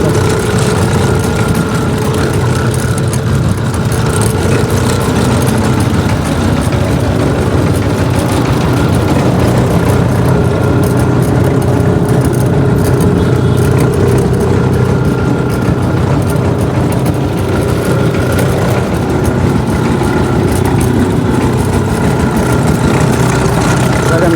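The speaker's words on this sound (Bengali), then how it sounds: "মেশিন স্টার্ট দিয়ে দিচ্ছে আর এইভাবে ঘুরে ঘুরে সরিষা থেকে তেল বের করা হচ্ছে" An engine-driven mill presses oil from mustard seeds at a traditional Bangladeshi market, its motor droning loud and steady with a constant low hum and mechanical whir, no pauses, amid faint background crowd noise.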